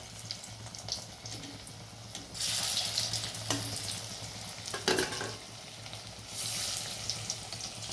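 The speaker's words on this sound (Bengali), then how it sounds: "আর বাকিগুলো এইভাবেই ভেজে নেব।" Puffed rice chops frying in hot oil, a steady sizzle with bursts of louder crackling and bubbling as pieces are moved or turned, close up with no talking.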